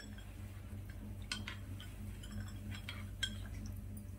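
A spoon stirs milkshake powder into cold milk, making faint, sparse clinks and taps against the glass over a low, quiet background hum.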